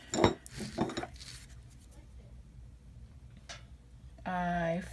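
Glass candle holders clink and knock as they are handled, making a few sharp chinks up close, while a person talks nearby.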